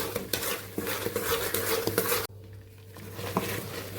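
A spoon stirring flour roasting in ghee in a pan for adadiya, making continuous scraping and clinking against the metal with a light sizzle underneath, close and steady.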